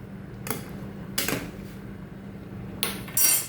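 Macaroni being stirred in a steel pot: a few brief metallic scrapes and clanks, spaced apart, close and moderately loud.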